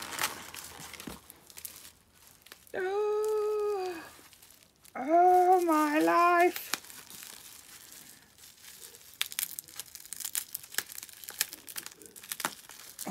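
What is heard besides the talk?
unwrapping gift wrapping paper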